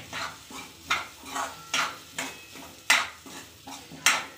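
Leftover overnight khichdi goes into a pan of freshly roasted spices, with a steady series of scraping, clattering stirs and pan knocks repeating roughly every half second, close and moderately loud.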